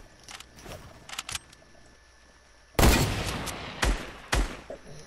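Gunfire in the video game Fortnite: a few quiet shots, then a loud close burst of rapid shots with several more heavy reports following.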